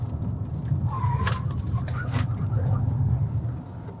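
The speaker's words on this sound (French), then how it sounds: "Je vais prendre la courbe un peu appuyée ici." A Nio ES8 electric SUV corners hard in sport mode, its tyres giving a brief squeal over a steady low road rumble, heard from inside the cabin.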